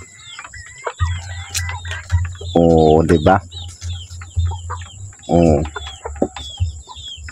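Chickens cluck and peck nearby, with short bursts of louder squawking, while a person makes brief remarks.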